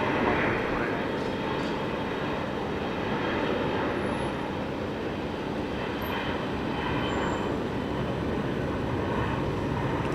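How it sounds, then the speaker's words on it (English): A Jetstar airliner passes at Sydney Airport as a steady, broadband jet roar that holds at a constant level throughout, with no talk over it. "There goes Jetstar."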